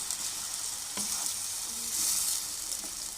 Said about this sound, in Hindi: और इसको अच्छे से हम भूनेंगे।